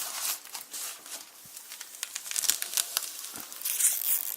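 Tape is torn off a roll and pressed around a window air conditioner: quiet, crinkly ripping strips and short crackles, close up with no talking.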